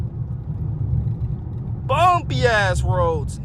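A Dodge SRT 392 with lowered suspension drives a bumpy mountain road, its interior filled with a steady low engine and road rumble, while a voice briefly rises over it near the end.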